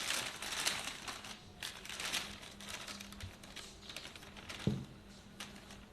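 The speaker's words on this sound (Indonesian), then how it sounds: "Kemudian aku tutup dulu dengan plastik supaya tidak kering ya." Bakpia dough being covered with a plastic sheet, soft crinkling and rustling of plastic with light tapping, quiet and close, scattered in small bursts with one sharper crackle near the end.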